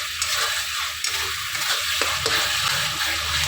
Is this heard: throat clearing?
no